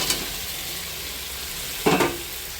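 Fried cauliflower and potato sautéed in spice paste in a pan, a low background sizzle broken by two short spoon clatters, one near the start and a louder one near the end.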